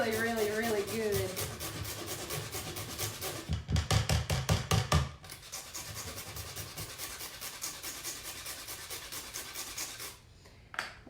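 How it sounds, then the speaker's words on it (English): Cinnamon being ground for a sweet potato pie: close, repeated rasping scrapes in a steady rhythm, with a louder run of strokes partway through before the grinding settles back to an even pace. "And then we're going to grind some cinnamon."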